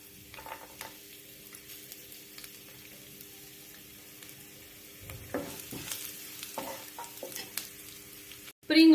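Chopped garlic fries in a pan with ajwain, a soft steady sizzle with occasional stirring scrapes that grow busier in the second half, ending in a sharp loud knock.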